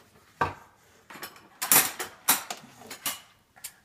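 Metal spoons, one tablespoon and two teaspoons, clink and clatter together in a series of bright, sharp hits, some quick and close, with short pauses between.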